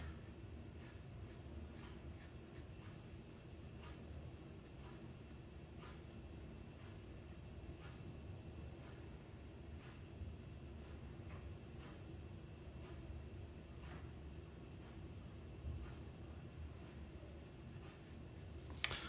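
A pen scratches quietly across paper during handwriting practice, faint steady strokes with occasional small ticks over a low background hum.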